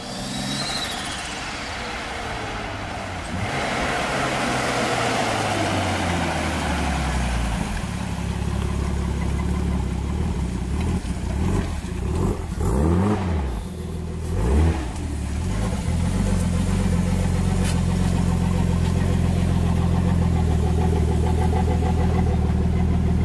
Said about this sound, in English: Turbo sounds kind of weird. I don't remember it sound like that.